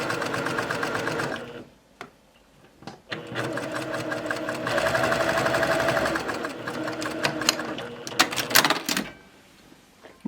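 A sewing machine stitches tape onto a cardigan, running in steady bursts with short pauses and clicks between runs, loud and close, with a voice talking briefly in a gap.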